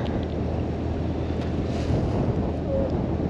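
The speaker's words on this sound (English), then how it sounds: "So I'll just go for a little bit of a cruise up the river" A boat cruises up a river on the Norfolk Broads in July, giving a steady, close engine and water rumble with wind buffeting the microphone and no talk.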